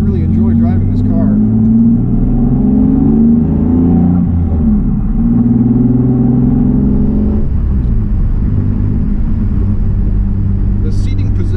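A 2002 Pontiac Firebird V6 with a five-speed manual gearbox rumbles steadily from inside the cabin, rising and falling through gear changes, with someone talking over it.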